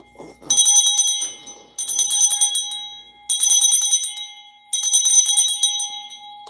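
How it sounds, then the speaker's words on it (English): A hand bell rings in four bright, ringing bursts, each shaken steadily for about a second before a short pause, loud and close with no talking. "Let me ring this bell."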